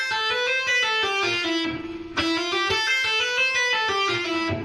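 Distorted electric guitar plays a repeating single-note pattern at a slightly quicker pace, a looping phrase with a brief dip before it cycles again, loud and alone with no talking.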